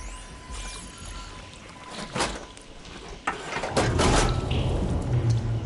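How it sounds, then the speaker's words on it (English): Machinery switching water flow in the video game Horizon Forbidden West: a sharp mechanical clunk, then a louder surge of rushing, pouring water that keeps running steadily to the end. "Sounds like the water's switched."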